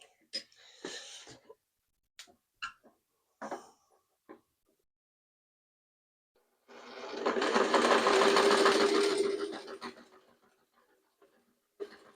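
A Singer Model 603E sewing machine stitches leftover wool fabric in one smooth run of about three seconds. Scattered handling knocks and clicks come before it.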